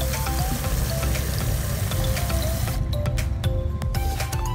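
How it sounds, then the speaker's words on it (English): Water rushes steadily into a garden sprayer, a continuous close splashing and trickling that thins out toward the end. "Fill the sprayer with water."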